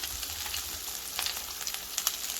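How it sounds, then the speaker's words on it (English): Meatballs frying in a pan, a quiet, continuous hiss and crackle of sizzling oil with scattered sharp pops, heard up close and alone. "I'm going to fry these and then get them cooked on the outside"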